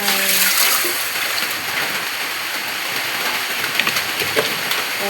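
Steady, dense rainfall hissing and pattering on a surface, with scattered close drips and splashes, no talking.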